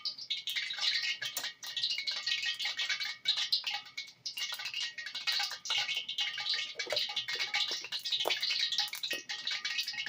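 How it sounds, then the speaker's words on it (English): Hot oil sizzling in a pan as a chicken stir-fry with Chinese broccoli and oyster sauce gets going, a steady bright crackle and spatter running close and continuous with small pops throughout. "You can hear the oil dancing"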